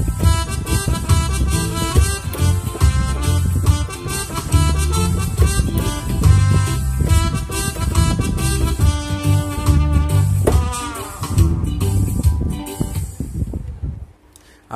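A famous melody played with the left and right hands together on a keyboard instrument, sustained tones and chords flowing steadily and fairly loud for most of the passage before fading at the end.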